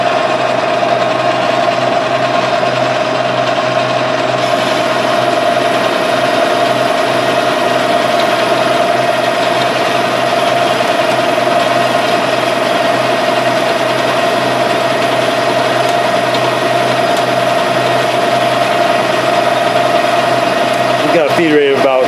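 A metal lathe turns a gearbox shaft, cutting with a WNMG 432 insert and taking about forty thousandths per pass. A steady mechanical drone carries a constant hum with no vibration, while someone talks over it.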